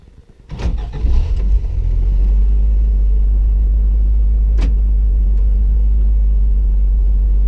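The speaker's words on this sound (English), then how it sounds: "Okay, we'll go for a test drive." A 1987 Toyota 4x4 LE van with a 4Y engine, Megasquirt fuel injection and a turbo cranks over on a cold start, then settles into a loud, steady, deep idle rumble close by.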